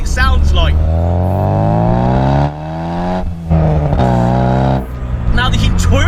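A 1.8L Astra GSI 90s hot hatch revs hard through the gears, its exhaust note rising in loud, close pitch sweeps with brief drops at gear changes.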